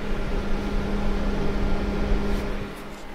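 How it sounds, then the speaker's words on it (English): Two 12-volt fans blow air inside an enclosed six-cup epoxy tumbler turner, making a steady, even whoosh with a low hum that stays constant throughout and sounds muffled, as if picked up from inside the box. "these two fans at 12 volts, they push some serious air"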